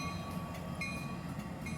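A train rumbles past with a steady, low, continuous roar and faint clattering, heard at moderate distance in the quiet farming game The Stillness of the Wind, with no talking.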